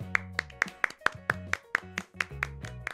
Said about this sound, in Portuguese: Ai, uma salva de palmas.